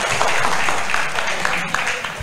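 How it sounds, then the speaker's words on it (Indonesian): An audience at a public speaking seminar claps, a dense, steady round of applause heard close and at a fairly loud level for a couple of seconds. "kita tepuk tangan untuk kita semua ya"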